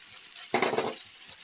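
Spice masala with red chilli powder frying as tomato paste hits the pan, a sudden close burst of hissing sizzle lasting about half a second before settling back to a quiet background.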